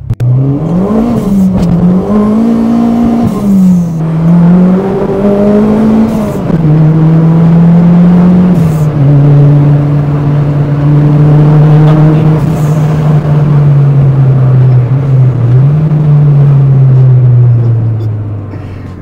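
A Toyota Corolla engine revs loudly, pitch climbing and dipping in bursts before settling into a long, steady droning hum that fades slightly at the end.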